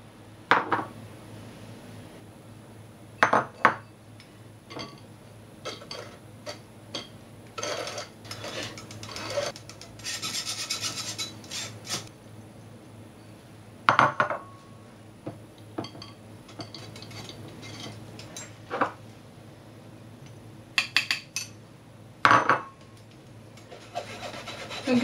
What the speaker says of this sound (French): Nous allons passer le sucre glace, les amandes